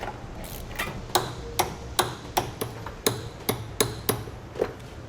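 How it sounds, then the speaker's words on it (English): A socket wrench, 16mm socket, tightening body bolts while installing DeeZee nerf bars on a 2005 Dodge Ram pickup, making a series of about a dozen sharp, evenly spaced metallic clicks, close and distinct. "Now with those secured down, we'll move on to our body bolts and get those taken care of."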